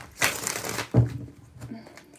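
A deck of tarot cards being shuffled by hand, two quick riffling bursts close to the microphone with soft clicks trailing off afterward.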